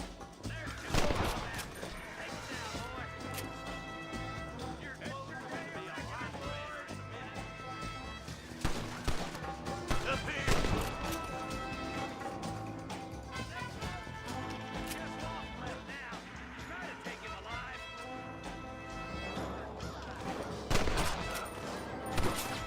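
Gunfire in the Western game Red Dead Redemption, loud sharp revolver and rifle shots fired repeatedly and in clusters over a continuous musical score, with brief character dialogue heard among the shots.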